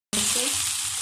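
Red amaranth greens frying in a pan, a loud hissing sizzle that bursts in abruptly and holds steady, close and alone.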